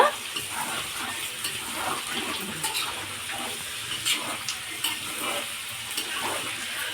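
Chicken pieces fry with masala in a pan, making a steady, close hiss and bubbling sizzle with small popping crackles scattered throughout and no talk.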